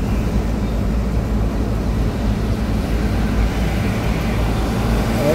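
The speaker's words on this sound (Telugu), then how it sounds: "Airport flight దిగుతున్నది." An Air India or IndiGo airliner coming in to land at Chennai airport, a steady loud engine roar heard from a roadside with no talk.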